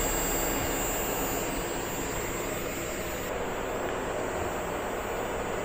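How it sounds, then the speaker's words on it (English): A loud, steady mechanical roar and whir from a 24V DC 10,000 BTU low-profile rooftop air conditioner compressor running with its cover removed, a continuous close-up broadband drone with no breaks. "You can hear the compressor right here."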